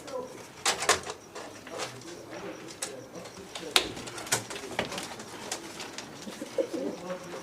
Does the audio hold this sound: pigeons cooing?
yes